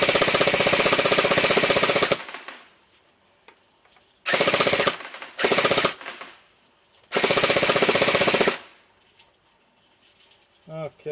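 An X-Force SLR CQB M4 gel blaster fires in full-auto bursts: a long two-second stream, two short bursts and another long stream, loud and rapid with quiet gaps, and a voice briefly at the end.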